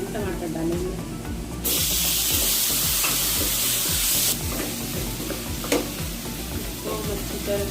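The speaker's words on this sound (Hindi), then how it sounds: "अब हम इसमें टमाटर डालेंगे," Tomatoes hit hot oil with spices for a potato curry and fry with a loud, steady hiss that swells into a bright sizzle partway through, while a spoon stirs and clinks in the pan.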